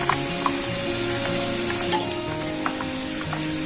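Spinach chips sizzle and crackle as they fry in hot oil, a dense continuous hiss with small pops scattered through it, close and fairly loud, with no one talking.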